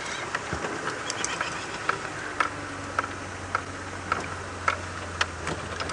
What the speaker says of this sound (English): I can hear a crested barbet